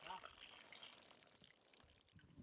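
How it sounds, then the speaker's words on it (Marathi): Water-based solution, about 300 ml, is poured into the hollow top of a banana plant stem. A soft, faint trickle runs under a quiet background and fades toward the end. "या पोग्यामध्ये आपण हे तीनशे एम एल पाणी टाकून द्यायचं आहे"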